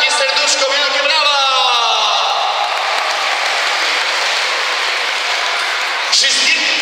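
A large audience applauds at a charity event, a steady loud wash of clapping with a voice speaking over it near the start and a cheer rising toward the end.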